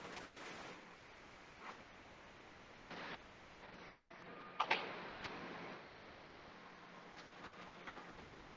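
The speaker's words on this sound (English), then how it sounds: "So this is called cell sorting machine." An EV battery cell sorting machine runs in a production plant with a steady broadband mechanical whir, broken by brief sliding clunks and one short sharp clatter near the middle.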